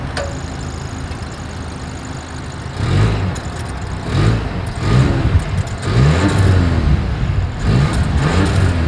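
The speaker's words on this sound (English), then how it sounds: "Here is that exhaust clip." A 2023 Volvo S60 exhaust idles steadily, then rises through several throttle blips and revs, each swelling and falling back, loud and close with no talking.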